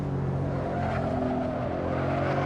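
Simulated BMW E92 M3 engine from the racing game Assetto Corsa, a steady loud engine note with rich harmonics holding high revs throughout, alone with no talk.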